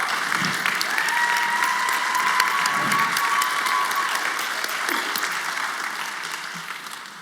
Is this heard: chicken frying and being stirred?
no